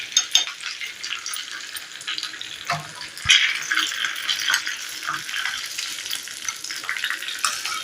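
Curry leaves dropped into hot oil while tempering for a spicy kara chutney, giving a continuous bright sizzle and crackle with a sharp burst near the middle, steady and close.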